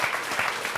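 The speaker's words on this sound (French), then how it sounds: "Applaudissements, mesdames, messieurs" A TV studio audience applauds, a short burst of dense, even clapping at steady loudness with no voices.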